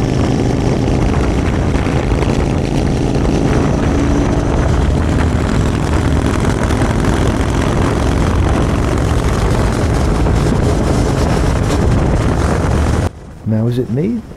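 Royal Enfield Continental GT 650 motorcycle with belt drive, a loud, steady engine roar under heavy wind rush that cuts off near the end, where a voice speaks briefly.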